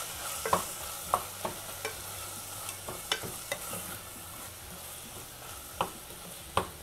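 Tomatoes sautéing in a pan for prawn biryani, a quiet, continuous sizzle broken by a dozen or so sharp scrapes and clacks of stirring at irregular intervals.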